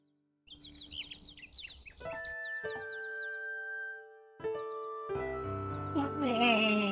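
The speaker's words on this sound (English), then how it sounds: "A nightingale perches on a high branch of the tree. She sings the most beautiful song Alexander has ever heard." Nightingale song from the video game King's Quest VI: bright, warbling chirps and trills with long sustained whistled tones, clear and close over a soft game music backdrop.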